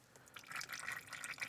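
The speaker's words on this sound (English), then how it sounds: "Nice steady flow, not just a drip. I wanted that actually flowing out of there" ATF draining in a steady stream from the rear differential of a 2000 BMW 740i sport E38, a soft continuous trickle and splash of liquid close by, quiet and alone.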